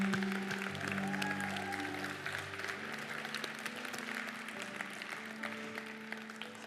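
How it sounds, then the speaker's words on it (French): Congregation in a church applauding after a sermon on marriage, a steady mid-level wash of clapping with organ or keyboard tones sustained underneath throughout. "Puis on peut applaudir, oui"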